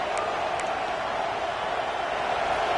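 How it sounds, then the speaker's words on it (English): A college football stadium crowd at a game against TCU roars in a steady, dense wash of noise that fills the whole moment without letup. "This crowd bringing the energy and noise early."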